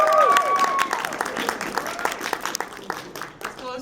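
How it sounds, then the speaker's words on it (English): Audience clapping for a team at a live comedy show, a dense patter of many hands that swells early and gradually thins, with a few cheers and raised voices mixed in. "if you like Team Horror, applaud now."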